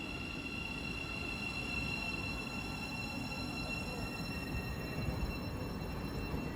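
A Great Northern Class 717 electric train pulls away from the platform at Potters Bar on the East Coast Main Line, a steady rumble of wheels and motors with a sustained high whine, fairly close and unbroken.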